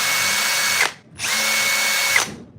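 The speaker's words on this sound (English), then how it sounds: "I love this drill." A Metabo power drill whirs loudly at full speed, stops briefly, then spins up again for another long burst, each run ending with a slowing whine.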